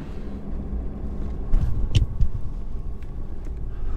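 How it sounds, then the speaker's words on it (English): A long freight train rumbles past in the open desert of eastern Arizona, a steady low roar with wind buffeting the microphone and a few sharper clanks rising midway. "This train must be 5 miles long, though."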